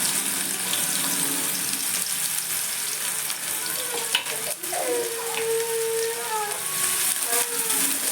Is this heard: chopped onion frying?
yes